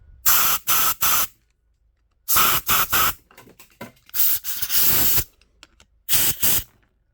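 Compressed air blasting through the pilot jet and passageways of an old Ski-Doo snowmobile carburetor, loud hissing bursts in short pairs separated by quiet gaps, up close.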